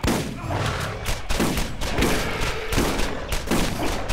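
Sustained gunfire in Borderlands, loud and close, with rapid shots and heavy thumping impacts layered into a continuous barrage that runs throughout.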